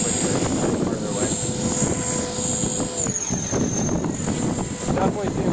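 An E-flite Blade 450 RC helicopter climbs quickly at full blade pitch, its rotor and motor whine buzzing continuously with shifting pitch, while a person talks over it outdoors.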